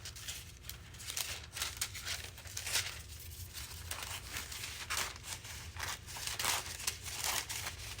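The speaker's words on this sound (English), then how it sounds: "Just cut a little piece here" Scissors cut a small piece of V-Mask foil in a series of quiet, crisp snips with light crinkling. The sounds come faint and close, at an uneven pace, with no talking.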